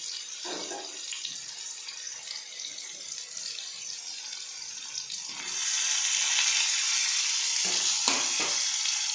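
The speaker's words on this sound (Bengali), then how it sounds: "আলুগুলো একটু লাল লাল করে ভেজে নিই।" Potatoes frying in oil in a pan give a steady close sizzle that swells louder about halfway through, with a few soft stirring knocks.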